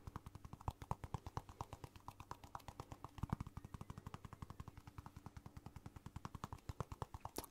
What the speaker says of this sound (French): c'est juste regarder celle que je tapote avec mes doigts